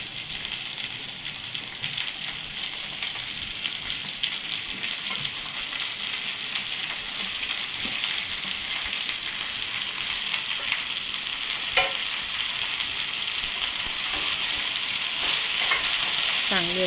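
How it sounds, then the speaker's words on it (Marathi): Sliced okra (bhendi) sizzling and frying in hot spiced oil tempering with browned chillies on a medium flame, a steady dense crackle lasting throughout, close and fairly loud, with no voices. "तर मी आता यामध्ये टाकून घेते मस्त अशी ही भेंडी."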